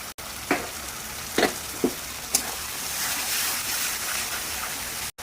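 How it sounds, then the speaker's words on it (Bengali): Beaten sour yogurt poured into sizzling spice masala for achari mutton, with a few sharp spatters and stirring knocks followed by a broad, steady sizzle. "এবার আমি দিয়ে দেবো এই টক দইটা ফেটে রেখেছিলাম, এটা দিয়ে দিচ্ছি"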